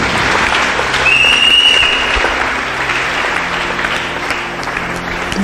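A church congregation applauds to acclaim Jesus during a Sunday sermon: loud, sustained clapping from a large crowd fills the whole stretch, with a brief shout rising above it.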